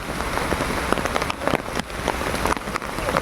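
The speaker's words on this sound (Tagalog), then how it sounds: "Sobrang lakas ng ulan, hindi talaga tumigil." Heavy rain falling outdoors, a dense constant patter and hiss with occasional louder splashes and drops nearby.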